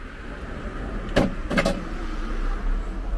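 Leak detection spray sprayed onto a car tyre gives two short hissing bursts, one and then another a moment later, close by over a steady low background rumble.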